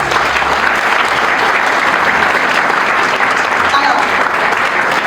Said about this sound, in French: applaudir pour eux?